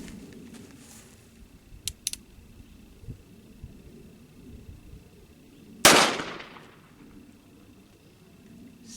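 A Cimarron Richards Conversion Type 2 revolver in .44 Special fires a single loud close shot with a sharp crack and ringing tail, after faint earlier clicks against quiet outdoor background.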